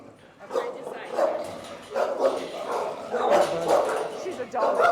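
A dog named Mabel, called Little Mama, barks and yips in repeated bursts close by, mixed with people talking warmly over and between the barks.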